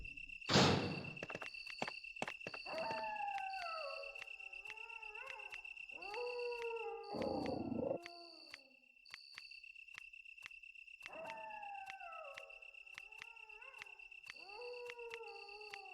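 Dogs howling in the video game Resident Evil (1996): several long, falling howls spread across a quiet stretch, with a steady high insect-like chirp and a sharp noise burst early on.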